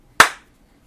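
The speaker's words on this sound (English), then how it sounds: "It just scared the stray cat away with the clap" One sharp, loud hand clap nearby to scare off a stray cat, a crisp single smack with a brief decaying tail, otherwise quiet.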